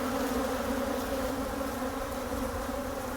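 Honey bees swarm around an open hive while it is being split, making a dense, steady buzzing drone that stays loud and close throughout with no voices.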